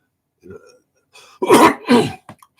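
A close, loud throat clearing followed by two harsh coughs in quick succession, with a faint murmur just before.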